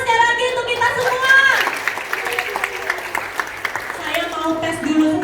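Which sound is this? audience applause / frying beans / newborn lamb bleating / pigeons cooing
audience applause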